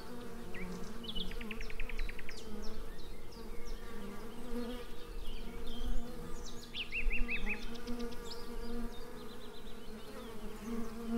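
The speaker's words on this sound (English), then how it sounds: "there were bees busy outside on the entrance of the hive" Honey bees buzz at a hive entrance in France with a steady low drone, overlaid by chirping birdsong at mid distance, continuous and fairly quiet outdoors.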